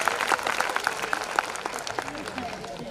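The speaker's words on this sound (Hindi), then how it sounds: "एक बार ताली बजाओ सर" An audience at a Hindi poetry gathering marking International Women's Day claps steadily, a dense, close round of applause that runs without pause.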